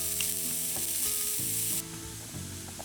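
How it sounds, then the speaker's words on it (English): Onions frying in olive oil in a skillet over medium heat: a steady, fairly quiet sizzle with a few soft stirring clicks, hiss dropping a little partway through. "So now we pour some olive oil in a skillet over medium heat. We add our onions to it"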